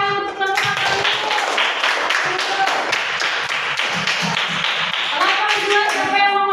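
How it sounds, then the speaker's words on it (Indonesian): A class claps for the Al-Qayyum group after its presentation, a roomful of hands beating briskly and close, with voices audible over the clapping. "Kasih tepuk tangan untuk kelompok Al-Qayyum."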